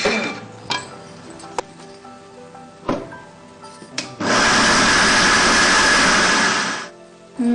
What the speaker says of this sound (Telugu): ఓకే, మిక్సీ పెడదామా? మిక్సీ పెడదాం.